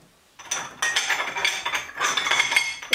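Ceramic bowls clinking and clattering together as they are sorted during a kitchen declutter, a run of close, bright knocks and rattles after a brief quiet start.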